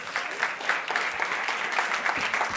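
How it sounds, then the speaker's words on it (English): A conference audience claps steadily, a dense patter of applause from a roomful of people that continues without a break. "Give her a round of applause."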